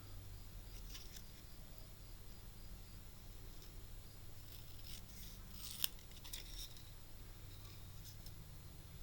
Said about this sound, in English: I'm just going to quickly cut this out